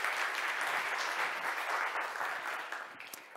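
An audience at a Montreal tech awards event applauds the jury members, dense steady clapping from a crowd that tapers slightly near the end.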